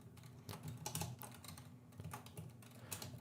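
Code being typed on a computer keyboard for a Unity game: quick, irregular light key clicks in a steady flurry, close and quiet, with no talk.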